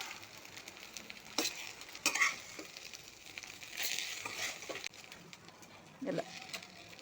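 Curry leaves dry-roasting in a pan for karuveppilai thogaiyal give a low, steady crackling hiss, broken by a few sharp scraping stirs of a spoon against the pan.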